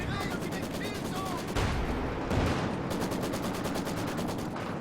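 Maxim machine gun fire in a Company of Heroes 2 battle: rapid, evenly spaced automatic bursts roll on steadily, give way briefly to heavier blasts and rumble midway, then resume at the same loud, close, rattling pace.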